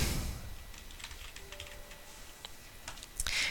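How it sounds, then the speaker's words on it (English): Someone types a name on a computer keyboard, producing quiet, irregular key clicks in short bursts that end in a slightly louder flurry of taps. "let me type the name"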